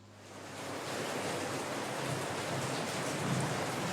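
Rain falls as a dense, even hiss that fades in over the first second and then holds steady and fairly soft, with no voices over it.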